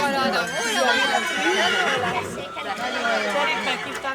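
A horse whinnies at a Hungarian csikós horseherd show in Győr, its calls mixing with steady crowd chatter and nearby voices throughout.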